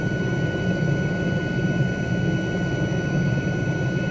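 A helicopter in Microsoft Flight Simulator 2020 cruises in level flight over Banff scenery, giving a steady, loud, unbroken engine and rotor drone with no voices.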